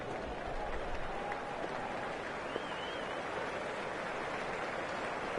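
A steady wash of crowd applause at a cricket match in a video game, continuous and evenly loud for several seconds with no voices over it.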